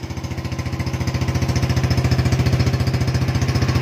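A Yamaha Lexi scooter idles with a custom aftermarket exhaust, a loud close rapid putter with a crisp, raspy pulse that firms up slightly as it settles into a steady beat.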